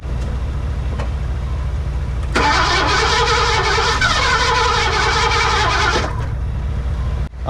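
Ford Mustang Fox body engine cranking, a rhythmic starter whir that rises into a sputtering attempt to fire for a few seconds before cutting off, recorded up close with no speech.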